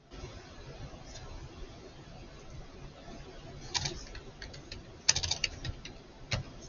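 Computer keys being typed, a quiet near clatter of short irregular clicks that bunch into a quick burst toward the end after a mostly still stretch.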